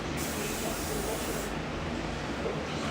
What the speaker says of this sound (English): I just got some spray paint. I'm going to spray in the air.